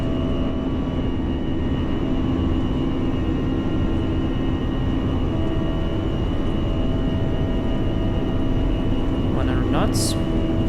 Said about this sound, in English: Outer thrust is blue. Thrust is set.